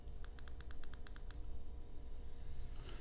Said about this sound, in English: You can actually manually turn the fan on by clicking this 5 times.